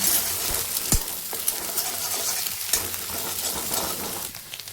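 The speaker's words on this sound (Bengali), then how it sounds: "ডিমটার এখন আমি ঝুরি করে নেব" Beaten egg scrambling and frying in hot oil in a wok for street-style egg chowmein, a steady loud sizzle broken by a few sharp scraping and stirring knocks, with no talking.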